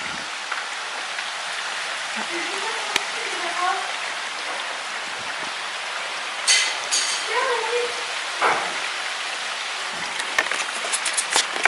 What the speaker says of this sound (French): mais il pleut très fort